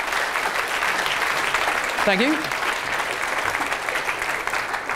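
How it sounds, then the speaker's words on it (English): An audience gives a steady round of applause at a seasonal maths lecture, the clapping filling the whole stretch, with a brief spoken thanks over it partway through. "let's give our websites a round of applause"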